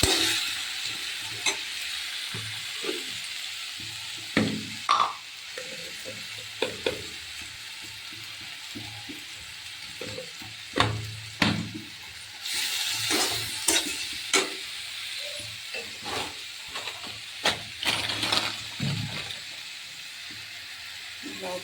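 Spices sizzling in a hot pan for an egg curry, a steady frying hiss broken by repeated scraping stirs at an uneven rhythm, with someone talking intermittently over it.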